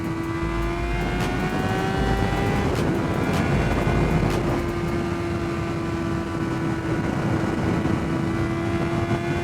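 A Honda CBR600RR motorcycle's engine holds a steady, high-pitched drone under wind roar while riding, with the revs rising and easing slightly.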